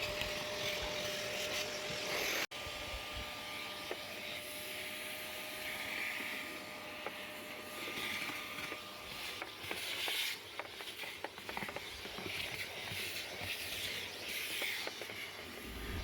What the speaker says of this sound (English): it does work as a nice little vacuum here